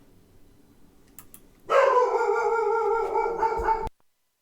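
Indoors, a house dog lets out a loud, sustained bark and howl lasting about two seconds, close to the microphone, after a quiet stretch with no talking.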